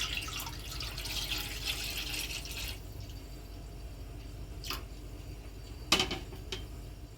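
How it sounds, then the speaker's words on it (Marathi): Water pours steadily into a pressure cooker for a few seconds, then a few separate drips and splashes follow at close range. "कुकरमध्ये पाणी ओतायचं आहे आणि 2 डबे ठेवून देते एकावर एक करून"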